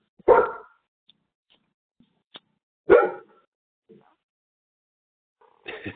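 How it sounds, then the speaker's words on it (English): A dog barks twice, loud and close, with a pause between the barks, followed by a third bark cut off at the end amid faint background noise. "Someone's dog is barking."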